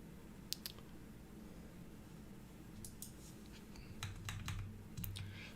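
A computer keyboard is typed one-handed, irregular clicks in small clusters separated by pauses, close and fairly quiet.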